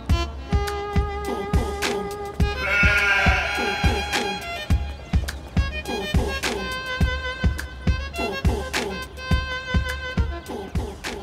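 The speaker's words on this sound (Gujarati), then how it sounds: "બકરો મળી ગયો." Goat bleats repeated in a rhythmic, musical pattern over a steady background with regular percussive beats, loud and close throughout, with a stretch of brighter, denser sound near the middle.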